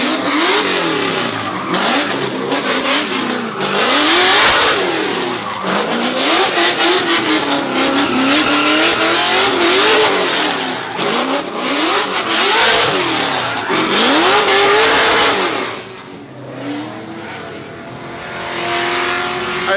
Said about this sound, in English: So we're going to just let a couple of burnouts go